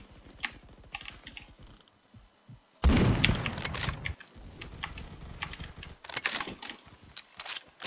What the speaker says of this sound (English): I hear a sniper.